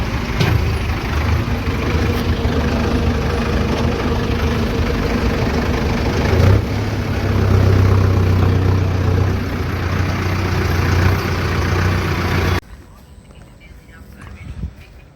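Tractor engine pulling a line of loaded trolleys on the road to Pathankot, a loud, steady low rumble that swells around the middle and then drops off abruptly near the end.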